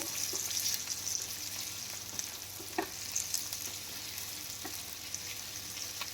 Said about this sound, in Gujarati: હવે દસથી બાર આપણે મગફળીના બીને એમાં એડ કરશું અને સાતડશું આપણે